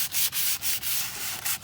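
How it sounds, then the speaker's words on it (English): Fine 320 grit sandpaper rubs along painted furniture legs in quick, even back-and-forth strokes, a close, soft rasping hiss with regular short pauses between passes. "we're going to use a fine grit sandpaper"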